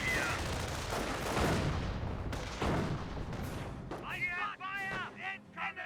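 Off-map howitzer barrage in the Company of Heroes strategy game, heard as a dense, rumbling roll of blasts and impacts that fades as someone commentates over it.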